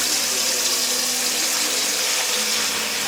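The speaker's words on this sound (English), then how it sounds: "we're gonna fill the bucket with hot water" Hot water pours from a tap into a bucket, a loud steady rushing splash that fills the whole moment with no voices over it.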